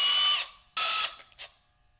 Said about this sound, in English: Got to remove these 4 bolts.